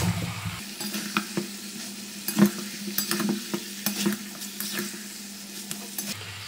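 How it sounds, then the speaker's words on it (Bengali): Mutton fried on a high flame and stirred hard, a loud close sizzle broken by sharp clacks and scrapes of the spatula against the pot, over a low steady hum. "গ্যাসের ফ্লেমটাকে বাড়িয়ে মাংসটাকে খুব ভালো করে নাড়াচাড়া করে নিয়ে"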